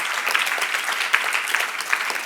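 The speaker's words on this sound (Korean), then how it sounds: "박수 한번 쳐봐." A room full of youth group members applauding at a church Q&A event, continuous crisp clapping at moderate volume with no talk over it.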